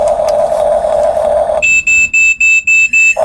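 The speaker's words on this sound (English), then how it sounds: "those 6 beeps let us know that it is in fact paired" Six short, evenly spaced electronic beeps from a HUINA 1350 1:14 scale R/C excavator remote confirming it has paired, clear and close, following a steady tonal hum.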